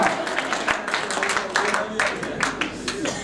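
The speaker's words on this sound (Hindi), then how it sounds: "आप भी जोरदार तालियां बजा के आनंद लो" Audience at a Holi comedy poetry gathering bursts into hearty, sustained applause, a dense close wash of many hands clapping at once with faint crowd murmur beneath.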